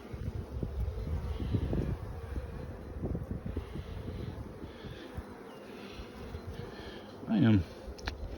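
Honey bees swarm around a beehive in spring: a dense, low droning buzz fills the air nearby, with individual bees passing close to the microphone and some wind rumble underneath.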